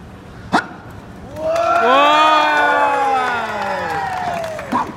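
A street-show crowd at Covent Garden erupts in a loud, swelling whoop of cheering voices that rises, holds for a couple of seconds and fades, with a few sharp claps at the edges.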